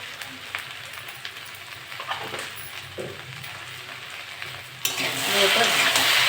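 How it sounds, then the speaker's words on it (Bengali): Okra and potatoes frying and being stirred in a pan with turmeric and salt, a steady close sizzle with scraping stir strokes, swelling into louder hissing toward the end. "নেড়ে চেড়ে এটা ভালো করে ভেজে নেবো।"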